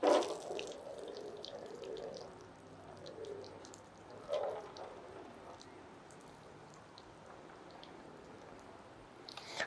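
A hand pump sprayer mists water onto a ceramic-coated C7 Corvette Z06, giving a soft steady hiss with faint dripping and a couple of louder spurts, no talking.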